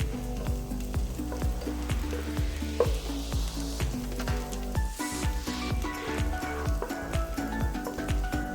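Onions sauté with salt in a pot for chicken biryani, a continuous close sizzle broken by rhythmic scraping and knocking of a spoon stirring against the pan, no talking.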